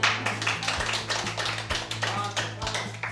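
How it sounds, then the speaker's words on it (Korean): Scattered applause from a small group of elderly participants in a Korean comedy English-lesson session, uneven claps over a steady low hum, with voices mixed in. "박수"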